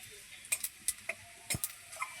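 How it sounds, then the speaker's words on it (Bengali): Whole cumin seeds and dried chillies fry in hot mustard oil, producing a quiet, sparse run of sharp crackles and pops spaced irregularly over a faint background hiss, with no voices. "ফোড়নটা ভেজে নেব।"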